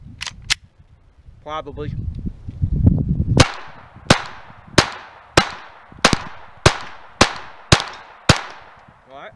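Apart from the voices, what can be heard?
Glock 44 pistol firing .22 rounds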